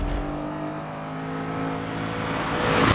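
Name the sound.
BMW Z8 coupe 4.4 litre V8 engine running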